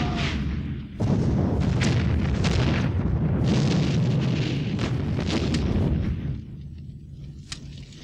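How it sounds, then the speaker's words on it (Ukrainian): A film explosion of gunpowder and plastic explosives erupts after a brief lull into a loud, sustained roaring blast with crackling debris, then fades to a quieter rumble near the end. "Зараз усе вибухне."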